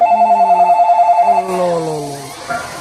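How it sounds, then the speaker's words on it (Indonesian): A phone rings with a repeating electronic ringback tone while placing a call, a steady pulsing pattern for over a second, then a brighter melodic ringtone with descending tones follows. "bentar, aku telepon mereka dulu ya, Pan."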